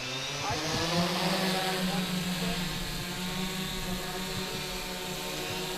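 Unmanned aircraft engine starting up, a propeller-driven buzz that catches with a few sputtering pulses and then settles into a steady, moderately loud drone with rising harmonics.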